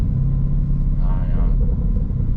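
A 2018 Lamborghini Urus in sport mode with the pedal pressed lightly gives a deep, steady engine rumble from inside the car, with a brief voice over it.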